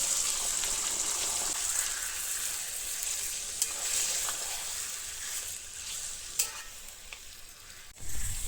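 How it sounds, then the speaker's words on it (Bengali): Bay leaves, whole garam masala and water going into hot oil, producing a loud, continuous crackling sizzle with a brief spatter and a sudden louder burst near the end, no one speaking. "তেলের মধ্যে দিয়ে দেবো তেজপাতা আর গোটা গরম মশলা দেব দিয়ে দেবো বাটি ধোয়া জল"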